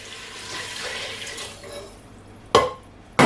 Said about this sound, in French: À la suite, on va mettre 2 litres et demi d'eau à boire.